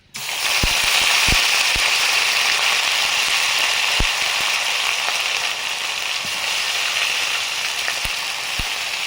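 Ginger, chili and turmeric paste hits hot oil in a pan with an abrupt, loud, steady sizzle, dotted with sharp pops and crackles throughout.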